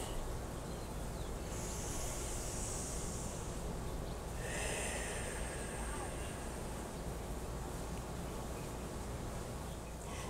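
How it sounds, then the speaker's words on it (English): A slow, deep breath drawn in and let out during a guided group healing session, soft airy rushes over a steady faint background hiss. "Take a deep breath."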